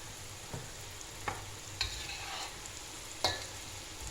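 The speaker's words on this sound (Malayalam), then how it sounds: "ഇപ്പോൾ എണ്ണ ചൂടായി വരുന്നുണ്ട്" Snack batter fries in hot oil with a soft, steady sizzle. A few sharp stirring clicks poke through at irregular intervals, all fairly faint and without voices.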